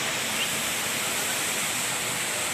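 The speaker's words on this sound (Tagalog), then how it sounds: "Taas po, yan yung falls sa baba" Waterfall at Mantayopan Falls in Barili, Cebu, heard from a hanging bridge above: a steady, dense broadband rush of falling water, continuous and even throughout, with no voices.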